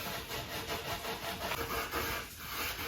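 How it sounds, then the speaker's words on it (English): Steady rhythmic rubbing as pickling stain is worked by hand into a wooden shelf from a van cab kit, a close, continuous scratchy friction sound with repeated strokes and no talking. "You really got to rub it in because otherwise it doesn't get in all the little crooks and crannies, does it?"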